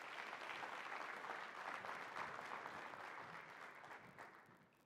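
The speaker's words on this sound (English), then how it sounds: "Please give them a big round of applause." Audience applause at an unemployed graduate reskilling and career summit, a broad wash of clapping heard from a distance that holds steady and then fades gradually toward the end.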